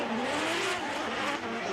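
Lexus IS 500 and Nissan S15 drift cars running together at a Formula Drift Japan event, engines screaming at sustained high revs with tire noise, loud and continuous, no talk.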